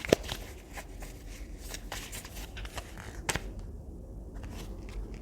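Tarot cards shuffled and drawn by hand, heard close and quiet as soft papery riffling and slides with a sharp snap near the start and a brief flick midway, with no talking.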